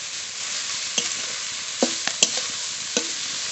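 Khesari greens cook in a pan with salt and turmeric under a constant soft sizzle, with a few distinct scraping stirs and knocks rising above the hiss. No voices.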